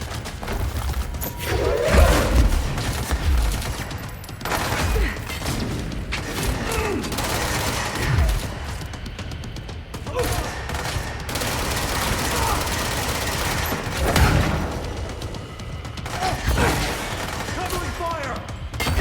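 Sustained gunfire in the Control video game, dense rattling bursts and thuds running throughout, mixed with a voice and other game sounds.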